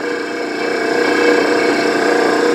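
A drill bit bores steadily through metal while a camera mount is being made, giving a continuous even whirring grind at close range with no talk.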